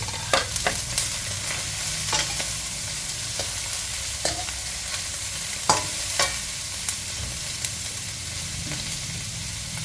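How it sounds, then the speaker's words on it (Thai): Shredded cabbage stir-fries in a hot pan for mee sua noodles with fresh pork, pork sausage and dried shrimp. A steady loud sizzle runs under repeated scraping strokes of a spatula, with no voices. "ใส่ผักกระหล่ำปีลงไปผัดนะคะ"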